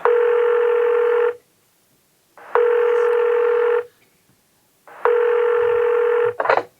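An outgoing call's ringback tone, three long even beeps separated by pauses, close and clear over near silence.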